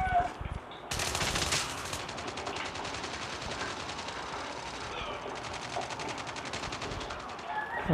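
Gunfire from a gun in the mobile game Call of Duty Mobile rattles off in two long, rapid automatic bursts split by a short gap, loud and steady, with almost no voice over it.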